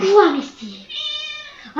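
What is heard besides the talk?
cat meowing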